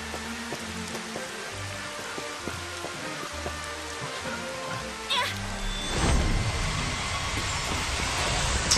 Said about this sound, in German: Platzregen ist doch bestimmt auch eine nette Magie.